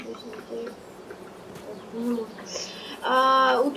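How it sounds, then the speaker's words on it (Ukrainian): Bees from a beekeeping mod in Farming Simulator 22 buzz steadily in the game, growing louder near the end, where a stronger tonal hum joins the drone. "тут ще й дається такий мод з бджолами"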